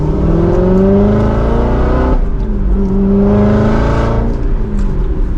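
Chevrolet Corvette C7 Z06 accelerating hard from second gear, engine note climbing loud and close in two sweeping pulls with a brief dip at the upshift between them.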